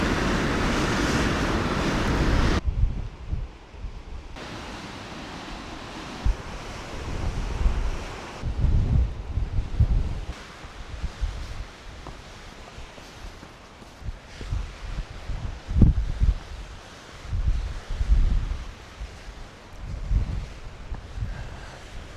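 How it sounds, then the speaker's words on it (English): Strong, gusty wind on an exposed mountain summit, roaring and buffeting the microphone in uneven surges, loud and close, with brief lulls between blasts. "this wind can take you out, man"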